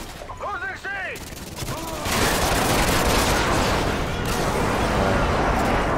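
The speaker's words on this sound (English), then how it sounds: "At least that's our airstrike, so I won't die from that" Airstrike explosions from Modern Warfare 2 erupt into a dense, loud rumbling barrage after a couple of seconds of game sounds, continuing as a sustained roar of blasts and gunfire.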